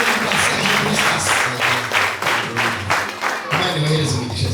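A church congregation in Kayonza, Rwanda bursts into sustained applause, many hands clapping in a dense, rhythmic crowd roar that rises and falls over several seconds, with voices mixed in.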